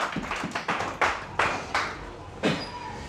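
A church congregation applauds in worship, with a handful of separate, strong claps or slaps spaced out in an uneven rhythm, close and sharp, with no speech.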